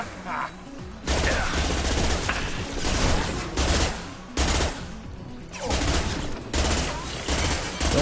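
Weapons in the video game Mass Effect 2 fire in repeated bursts, dense clattering volleys of gunshots separated by brief lulls, loud and close across the whole stretch.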